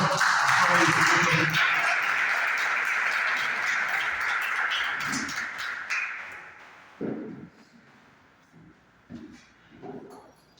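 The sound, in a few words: church congregation applauding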